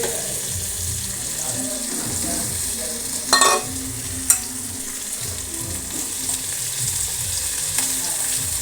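Loud, continuous sizzling of garlic paste frying in hot oil, with a couple of sharp clinks from a utensil against the pan partway through.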